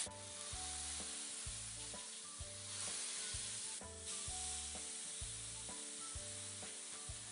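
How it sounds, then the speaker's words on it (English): Fish frying in a pan of sesame and vegetable oil gives a steady, loud broadband sizzle throughout, with rhythmic low tonal pulses from other equipment running underneath; no one talks. "Put the fish in the pan."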